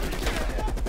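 Sustained rapid machine gun fire in the Call of Duty: Cold War campaign, a loud dense rattle of shots with no pause, heard in a single continuous burst.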